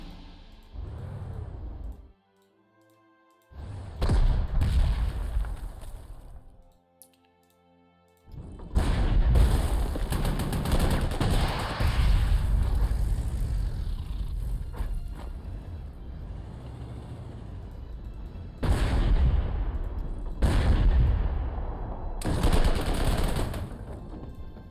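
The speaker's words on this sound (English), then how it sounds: "We can use artillery to fire at this and then try to destroy the anti-tank gun." Artillery firing at an anti-tank gun in Panzer Corps 2, heavy booming salvos in several long, loud bursts of rumbling fire separated by short quiet gaps, with no voices.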